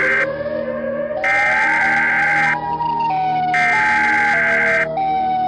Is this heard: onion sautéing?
no